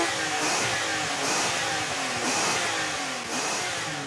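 A Porsche Cayman S with its sport exhaust button engaged and a seven-speed PDK gearbox revs repeatedly. Loud, close throttle blips rise and fall in a steady rhythm, with no talking.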